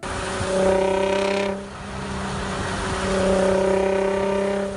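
An Infiniti G35 with a VQ engine revs hard, a loud droning exhaust note that climbs, drops briefly as the throttle lifts, then swells again to a sustained high rev.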